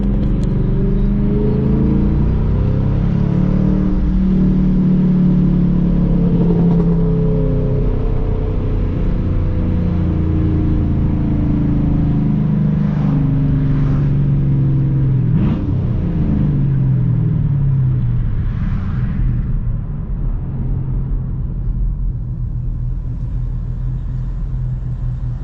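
A tuned 3V Ford Mustang GT engine rumbles loudly up close, rising and falling through several revs, with deep tonal sweeps and a steady idle between them.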